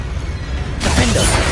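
A Confringo fire spell blast from the video game Hogwarts Legacy bursts in suddenly after a quieter stretch, a loud broadband whoosh and crackle that holds steady to the end.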